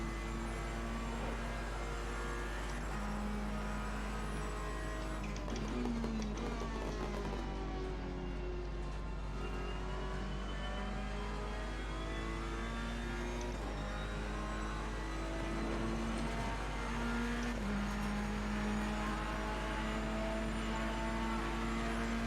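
A 2017-spec Ferrari race car engine in a sim racing game drones continuously, its pitch rising and falling through long gear pulls with shifts between them, steady and fairly quiet with no talking.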